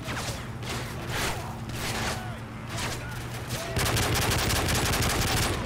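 Bursts of automatic rifle fire in Call of Duty Modern Warfare 3, spaced shots early on giving way to a dense, sustained volley near the end, with someone talking over the shooting.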